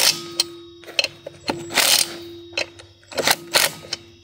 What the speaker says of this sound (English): let's ratchet these